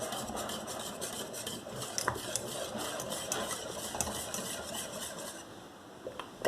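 Vanilla pudding mixture stirred in a pot as it nears the boil; a spoon scrapes and swirls continuously and steadily against the pot, close and fairly quiet, with no talking.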